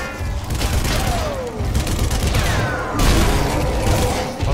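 Sustained machine gun fire from enemy gunners in the Zombie Army Trilogy game, a dense, loud rattling barrage running throughout with booms and mechanical clatter mixed in, no talking.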